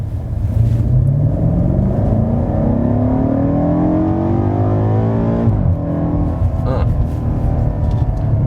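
A 2018 BMW M5 F90 accelerates hard with a rising engine note that climbs steadily, then drops sharply at a gear change and pulls on again. It is loud, close and continuous from inside the car.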